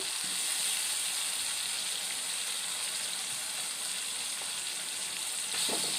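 Two small tomatoes with turmeric and ginger-garlic paste sizzle steadily in a pan over onions, a dense continuous frying hiss with occasional soft stirring scrapes, close and even throughout.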